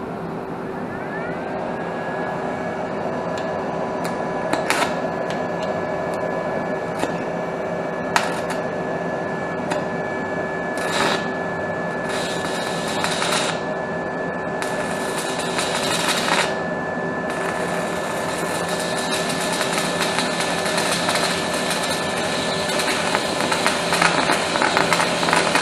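An Arc 120 stick welder strikes and holds an arc, producing a continuous loud crackling buzz with steady hum and occasional sharper pops and spatter bursts throughout.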